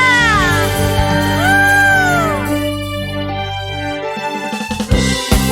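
A church congregation at a GBI worship service held in a hotel shouts and cheers hallelujah together. Loud, rising and falling voices blend into a sustained crowd roar.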